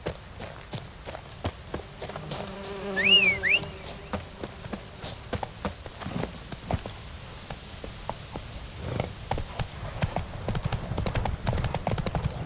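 Horse Roach's hooves clip-clop steadily in The Witcher 3 video game, a close, rhythmic trot of hoofbeats that runs throughout, with a brief whinny-like tone and faint game sounds in the background.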